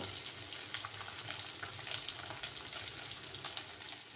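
Small fish fry in hot oil in a pan, giving a steady, even sizzle with faint crackles throughout and no talking.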